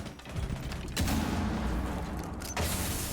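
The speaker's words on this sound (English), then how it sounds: "So a grenade just went off here, right?" In the shooter game Rainbow Six Siege, a grenade explodes in a sharp, full-bodied blast, followed a moment later by another hard burst over steady in-game background noise, with no voices.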